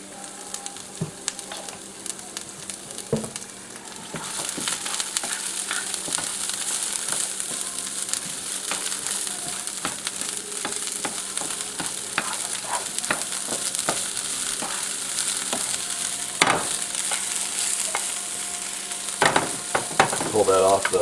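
Chicken fried rice sizzling steadily in hot oil in a pan over a flame, with continuous loud frying hiss and repeated scraping, clattering strokes of a spatula stirring it throughout.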